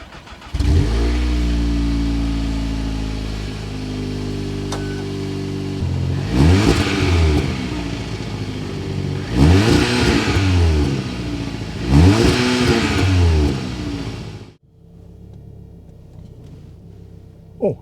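A Volkswagen Golf R with an automatic paddle-shift gearbox starts up with a loud crank and settles into a steady idle. Three sharp revs then rise and fall before the engine cuts off into near silence.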